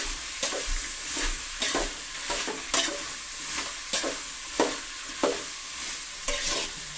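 Dried field beans fry in oil in a pan with a steady close sizzle, broken by regular scraping strokes as they are stirred.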